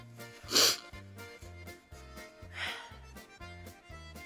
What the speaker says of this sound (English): I just hope I don't sneeze in front of my